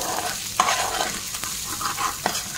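Chicken fries in a pan with a constant bright sizzle, broken by a few sharp scrapes and clacks of a spoon stirring the pieces.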